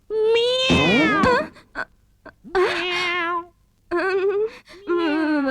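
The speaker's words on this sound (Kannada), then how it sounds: "ಈ ಬೆಕ್ಕುಗಳದ್ದು ಒಂದೇ ಗಲಾಟೆ." Several cats meow loudly and close by: long, wavering, drawn-out cries that come in four bursts with short pauses between them.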